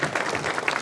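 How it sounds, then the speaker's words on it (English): Audience at an opening ceremony breaks into a short, dense burst of clapping, fairly close and even, with no voices over it. "let's give him a round of applause."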